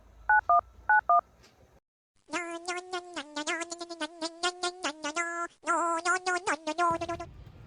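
A phone is dialed with two quick pairs of clean keypad beeps, then after a short pause a loud, tonal melodic passage of stepped notes plays up close until a soft hiss at the end.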